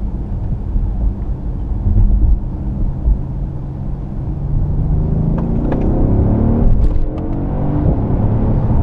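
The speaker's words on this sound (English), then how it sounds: "You do get a nice sound, like a popping sense sound, when the gears are changing up, which is fantastic." A 2016 Mercedes S63 AMG engine drives on a wet road with a deep continuous rumble and steady road roar, close by, with a few brief pops and crackles as the gears change up near the end.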